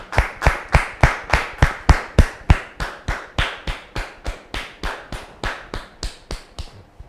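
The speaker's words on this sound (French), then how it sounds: "Je vous demande de le recevoir sous vos applaudissements" Audience applause welcoming a guest onto a studio set, heard as steady, evenly spaced unison claps, about three per second, loud and close, gradually softening and stopping.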